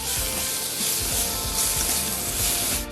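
Carrot and red bell pepper stir-fried in a pan for japchae, a loud constant sizzle with close scraping and tossing of the spatula throughout.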